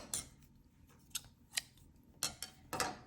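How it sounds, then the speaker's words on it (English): Scissors snipping crochet yarn after finishing a raised-flower square, a few quiet separate snips spread across a hushed moment with no talking. "we're going to cut the yarn"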